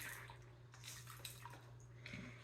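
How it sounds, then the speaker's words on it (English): Dry pinto beans pour into a bowl of salted soaking water, a faint, brief run of soft splashes and rattling patters over a low steady hum. "I'm just going to dump in my beans."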